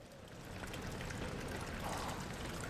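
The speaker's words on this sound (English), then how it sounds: "I hear the waterfall just in my left ear." Water from a waterfall in the video game Amnesia: The Dark Descent rushes and splashes as a steady, moderately faint wash of noise that carries on without a break.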